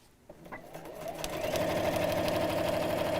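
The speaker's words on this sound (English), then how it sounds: "Just sewing in straight lines, you know. That's what quilting is" A sewing machine stitches straight quilting lines, starting with a few clicks and then building into a steady, rapid mechanical whir that runs close and continuous.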